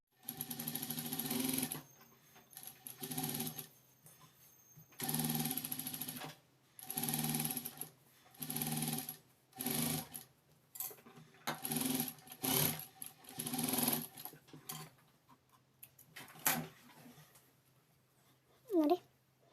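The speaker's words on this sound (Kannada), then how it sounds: "ಈಗ ಇಲ್ಲಿ ಸುತ್ತಲೂ ಫಸ್ಟು ಸ್ಟಿಚ್ ಹಾಕ್ಕೊಂಬರ್ತೀನಿ." A sewing machine stitches a small child's gown in repeated bursts of rapid mechanical whirring, close and fairly loud, separated by short pauses, with a voice talking faintly near the end.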